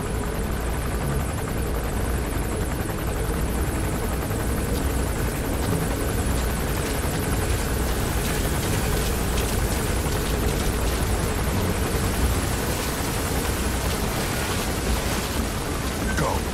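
A helicopter in a video game, a loud continuous rotor roar and chop that holds steady throughout with no pauses.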